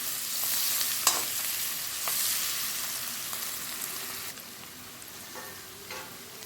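Onions frying with turmeric and salt in a pan for an Assamese vegetarian thali, a soft steady sizzle with a few sharp spatula clicks and stirring scrapes, close by and fading slightly toward the end.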